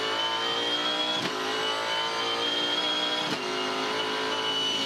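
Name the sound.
Supercars race car engine, on-board at Auckland 500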